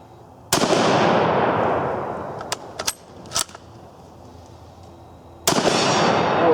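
A light-triggered rifle loaded from a stripper clip fires at a steel target: two loud, booming shots about five seconds apart with long ringing decays, and a few sharper, fainter cracks and clanks between them.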